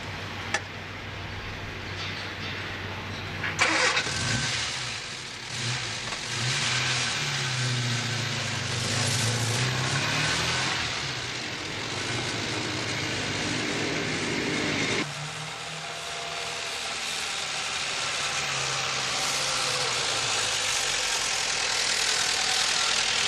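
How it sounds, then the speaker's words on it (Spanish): An old car driving on the outskirts of Nottingham in the early 1980s, a steady low engine drone rolling on continuously with a shift in tone partway through, close and even, no voices. "en su antiguo coche se dirige a su casa"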